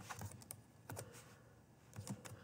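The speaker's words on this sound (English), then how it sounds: "I will type out Starcraft." Keystrokes on a computer keyboard tapping out a word in small clusters, quiet and close, with short pauses between bursts and no talking.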